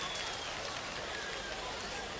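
A packed audience fills Gjirokastër castle with applause at the 2015 Gjirokastër festival, a dense, steady hiss of many hands that goes on unbroken and sounds far off.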